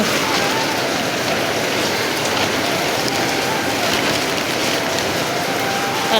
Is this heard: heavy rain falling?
yes